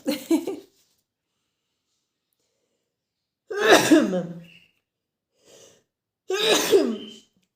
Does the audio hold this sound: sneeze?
yes